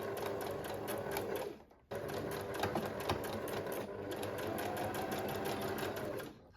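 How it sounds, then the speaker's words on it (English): A sewing machine runs along a dress side seam in rapid, even stitching bursts, stopping briefly partway through before starting again and continuing steadily, close and clear. "now I'm going to sew this up on the machine"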